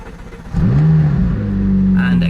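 A McLaren sports car engine cranks and catches, then settles into a loud, steady idle that swells with a rising rev; the sound is close and heard from inside the cabin.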